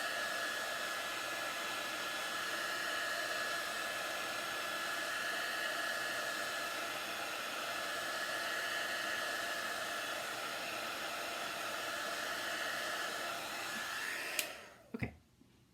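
A handheld hair dryer blows steadily on pink chalk paste in a basement craft session, a loud continuous whoosh that runs alone for about fourteen seconds before clicking off abruptly.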